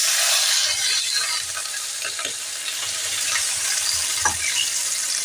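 Pointed gourd and shrimp fry in a pan with ginger and green chilli as a little water is added, giving a loud steady sizzle with soft stirring scrapes throughout.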